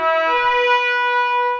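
Sampled trumpets with the full mic mix, a sustained brass chord that holds steady and bright, rich in harmonics, with no voices.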